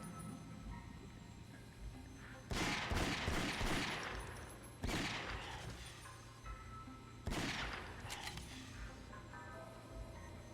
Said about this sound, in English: I'm gonna shoot these rats to get some ghost energy.